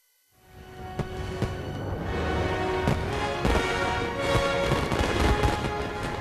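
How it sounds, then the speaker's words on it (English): Fireworks at the opening of the Shanghai World Expo 2010, a dense, sustained barrage of crackling bursts and sharp booms layered over a constant roar, loud and continuous from start to finish. "A fireworks extravaganza to open the most expensive World Expo ever."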